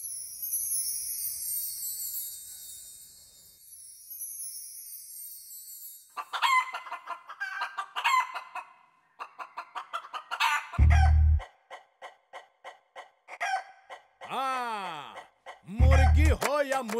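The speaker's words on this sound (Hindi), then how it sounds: "मुर्गी हो या मुर्गा" Rooster crowing and chickens clucking in a Hindi-dubbed action film scene; a couple of rising, drawn-out crows and clucks come near the end, with brief voices and a loud thump around them.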